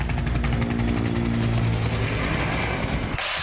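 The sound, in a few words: police helicopters flying overhead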